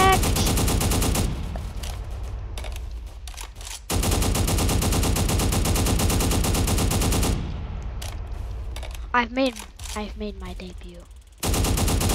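Rapid automatic gunfire in the Roblox game Prison Life comes in long, dense, loud bursts broken by short pauses, with a player talking briefly in between.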